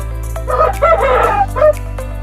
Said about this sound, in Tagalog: Mga malalaki po itong mga manok.